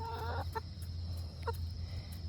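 A hen clucks a few short, rising notes, fairly faint and distant, over a low steady hum of background noise.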